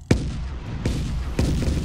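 Explosions close a level in the game Guts and Glory: three sharp, loud booms spaced under a second apart, each with a short rumbling tail, no voices.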